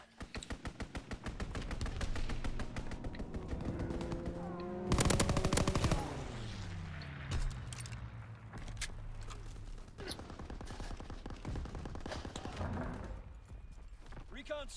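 Gunfire from an enemy strafing run in the World War II zombies game Call of Duty WWII, with dense rapid automatic bursts and a loud impact swell midway, heard under game voice callouts and chatter.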